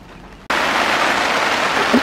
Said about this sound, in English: It is coming down. It's raining so much right now.